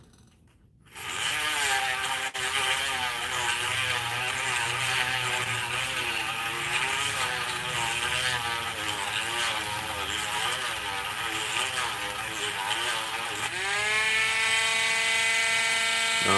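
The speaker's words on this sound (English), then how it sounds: "as soon as I sand this down." A steady, loud, whining motor drone of a power tool sanding down a silver ring, holding a buzzing tone that wavers slightly and then rises in pitch near the end.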